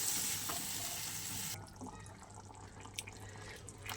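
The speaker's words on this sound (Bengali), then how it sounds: "চলো এবার আমি জল দিয়ে দেবো" Water poured into a cooking pot of shrimp curry, a faint close trickle and splash that stops partway, leaving quiet drips and soft kitchen noise.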